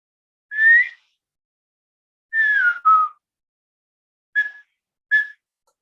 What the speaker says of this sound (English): So I'm going to whistle in a second.